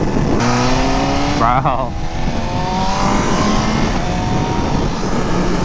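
BMW M1000RR superbike engine revving loud and close, a steady high-pitched motor drone with rising and falling pitch sweeps, one sharp rev jump partway through, and someone speaking briefly over it.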